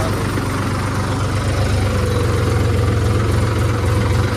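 A tractor stuck in mud runs with a steady, loud, throbbing diesel engine rumble, idling continuously throughout.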